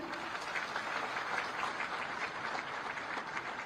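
A crowd at a foundation stone laying ceremony for a bus depot claps in steady, continuous applause, moderately loud and without speech.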